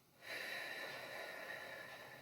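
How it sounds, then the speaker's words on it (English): A steady, breathy rush of air during a lung-clearing breathing exercise, an exhale blown out evenly for about two seconds after a brief quiet start, close and alone with no talk. "deep breath in, hold, sniff and blow out"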